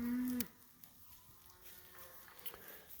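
Beef cattle in a grazing mob on a Missouri farm on a cool fall morning: one fairly loud low moo opens, then soft scattered animal sounds and faint insect buzz in the open air, no talk.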